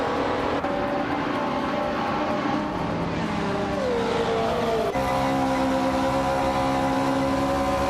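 Vintage ultralight race cars, including a classic 1968 Porsche 909 Bergspider, race at Sitges Terramar Reverse in a video game, their engines droning loud and steady throughout with pitch shifts and a passing sweep.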